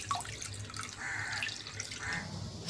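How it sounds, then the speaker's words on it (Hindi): Half a litre of milk pours into a frying pan for custard, a faint, close liquid trickle and splash that runs in two short bursts, with no speech. "इसमें डालेंगे हम 1/2 लीटर दूध।"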